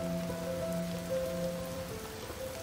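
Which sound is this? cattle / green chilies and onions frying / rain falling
rain falling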